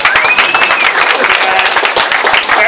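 An outdoor picnic crowd claps in the rain, a loud, close burst of rapid hand claps, with a faint voice or tone drifting through.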